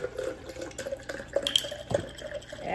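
Chai latte concentrate pours into a to-go cup, giving a close, uneven liquid splashing and gurgling with small clinks across a few seconds.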